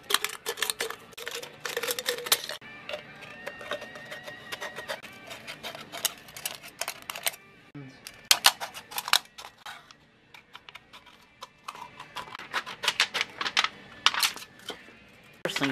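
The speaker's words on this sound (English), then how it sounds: "it's time to cut up a soda can." Tin snips cut through a thin aluminum soda can in quick bursts of sharp, crinkly snipping and crunching metal, with short pauses between cuts, close and moderately loud, with no talking.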